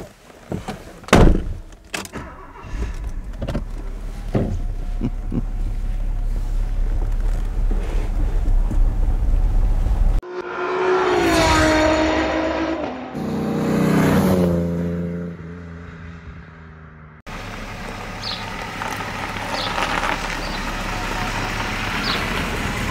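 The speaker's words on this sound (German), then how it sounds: "der Sound von dem Auto. Er läuft ganz tief, also im Standgas bei 500 Umdrehungen." A 1979 Mercedes 450 SEL 6.9 engine rumbles low and steady at idle around 500 rpm, close by, with a door thunk early on and a louder shifting passage midway.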